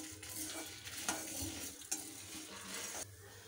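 Chana dal, urad dal and red chillies roast in a pan while being stirred, a soft close sizzle with scraping strokes and a couple of light clinks, no talk.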